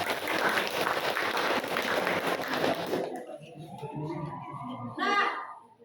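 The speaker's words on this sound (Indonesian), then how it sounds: "Kasih dulu tepuk tangan." A classroom bursts into dense applause for student presenters for about three seconds, then children's chatter and a teacher's voice take over.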